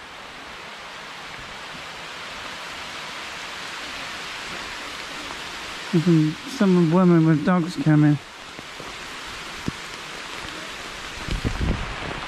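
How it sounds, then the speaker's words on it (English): Heavy rain pours steadily on a campground, a broad constant hiss filling the whole clip, with a voice speaking briefly partway through. "it's raining like absolute hell"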